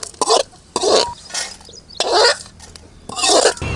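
Ingredients for appakovai keerai chutney being stirred and scraped in a pan, with several distinct bursts of metallic scraping and clinking separated by short pauses, close and fairly loud.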